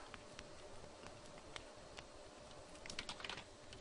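A title is typed on a computer keyboard: rapid, light key clicks in an uneven run, getting a little busier toward the end, close and fairly quiet over faint background hum.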